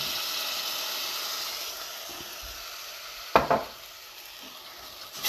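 Tomato paste with spices simmers in a pan for a chickpea curry, a steady high hiss that slowly fades, broken by a sharp stir or pan knock partway through.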